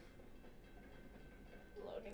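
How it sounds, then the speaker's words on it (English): A train rumbles past outside, a low steady roll with a faint whine that swells slightly toward the end, distant and muffled. "That train is fucking annoying."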